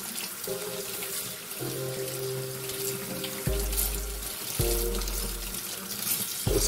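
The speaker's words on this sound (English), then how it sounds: "Cleaning and prepping the sea moss." Tap water runs steadily into a sink as raw organic sea moss is rinsed and cleaned under it. The stream is close and continuous, with shifting tones and splashes each time the moss is moved through the flow.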